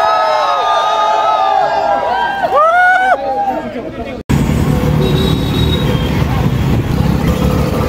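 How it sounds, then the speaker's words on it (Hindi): A large crowd at a college event, with a band playing. Loud, dense crowd noise and voices fill the scene, and bright warbling tones rise over them before a sudden cut to a heavier, rumbling crowd roar. "बैंड बज रही है, बहुत ज़्यादा भीड़ है।"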